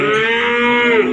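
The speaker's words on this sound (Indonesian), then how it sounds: "ada bakalan limusin teman-teman, lumayan super ini." Limousin cattle at the Glenmore animal market give a loud, sustained moo that fills the whole moment, close by and steady, with no talk over it.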